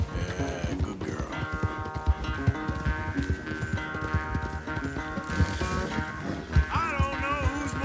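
Horse hooves clip-clop at a steady trot during a race in the Red Dead Redemption 2 game, set under busy music and layered game sounds.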